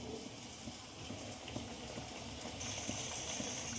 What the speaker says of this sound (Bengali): পালং শাকটা দিয়ে দেবো, সেদ্ধ হওয়ার জন্য ঢাকা দিয়ে দেবো